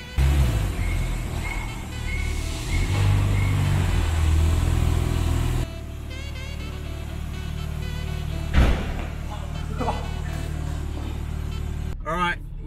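Steady low engine rumble inside a moving car, continuous under loud talking from people inside, with a brief drop in level partway through and a short knock near the end.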